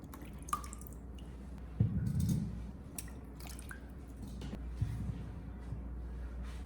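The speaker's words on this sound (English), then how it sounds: "scoop the grapes into a colander, change the water, and rinse them one more time" Grapes rinsed with water in a colander, giving soft drips, splashes and squishy wet handling sounds in a quiet kitchen, with a brief louder burst of water partway through.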